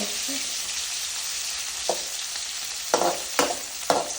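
Potatoes frying in a pan, a continuous hiss of sizzling oil with a few sharp scraping strokes of a spatula toward the end.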